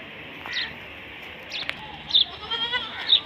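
A goat bleats in a village yard as its fodder arrives, giving a few short, moderately loud calls over a steady background hiss.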